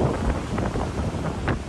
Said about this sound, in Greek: Παρόμοιο το σκηνικό του καιρού και στην Πάρο, με κατά διαστήματα βροχόπτωση και θυελλώδεις ανέμους